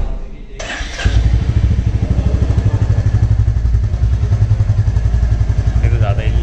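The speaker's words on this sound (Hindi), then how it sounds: "बाइक स्टार्ट करेगा, आइडल पे देखेंगे कितना वाइब्रेट ये कर रही है" A Royal Enfield Classic 350 motorcycle engine starts with a thump and settles into a steady, loud, rhythmic idle putter close by, running throughout.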